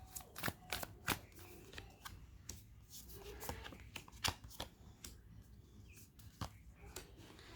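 Quick, crisp riffling and snapping of tarot cards being shuffled, repeated in short bursts close to the listener, with no talking.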